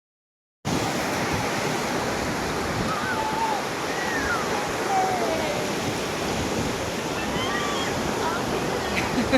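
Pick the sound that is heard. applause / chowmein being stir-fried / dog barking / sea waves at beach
sea waves at beach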